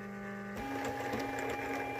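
Craft cutting machine whirring steadily as it reads printed registration marks on paper before cutting ephemera, a continuous mechanical hum that steps up in level partway through, close and alone.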